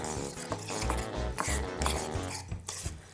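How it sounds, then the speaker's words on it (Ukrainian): Continuous spoon scraping and stirring eggs into hot food with mushrooms in a pot, with rhythmic rubbing strokes and occasional clinks. "Перемішуємо ложкою."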